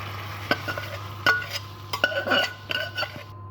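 A spoon stirs drumstick pickle with tempering and tamarind pulp in a bowl. It gives a few sharp scrapes and light clinks in an uneven rhythm, close and fairly quiet, with no talking.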